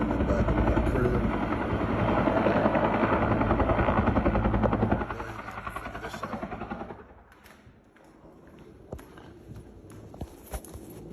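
Police helicopter flying overhead during a house raid, a loud, steady rotor drone that holds for several seconds, then drops away, leaving faint thumps and scattered sounds.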